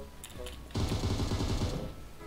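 Machine gun fire in the video game PUBG Mobile during a team deathmatch, a loud rapid burst of repeated shots lasting over a second after a brief lull, close and dense with game ambience around it.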